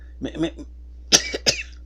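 A person coughs twice in quick succession, sharp and close, after a short burst of speech-like vocal sound.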